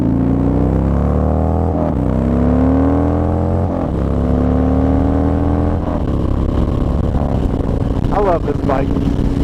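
A motorcycle engine revs hard and close in repeated climbing pulls, dropping back between each one, a loud continuous roar with no voices.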